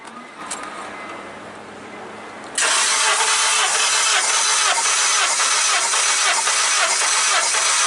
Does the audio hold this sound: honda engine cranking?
yes